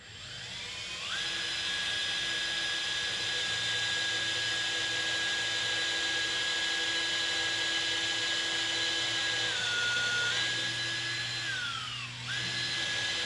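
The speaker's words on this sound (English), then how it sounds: "I'm going to drill nice and slow. I don't want to break out the back of the board." A steady, high-pitched power drill whines continuously, drilling slowly into a wooden board, dipping briefly in pitch near the end as it bores in, then winding down and restarting.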